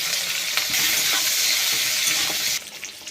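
Onion and capsicum fry lightly in a pan with a loud, continuous hiss of sizzling oil that cuts off abruptly near the end, followed by quieter stirring.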